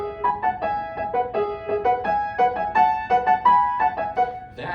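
Solo piano playing Liszt's La Chasse, with bright repeated chordal figures imitating hunting horn calls in a lively, bouncing rhythm, clear and close with no talking.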